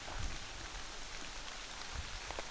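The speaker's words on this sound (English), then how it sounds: "it's raining really hard" Hard rain falls outdoors during a bowhunt, a constant soft hiss of drops with a few heavier spatters, fairly quiet and even throughout, with no talking.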